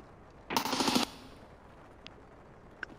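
Burst of rapid automatic gunfire in a video game, a dense half-second volley fairly close, followed by quiet with a couple of faint clicks.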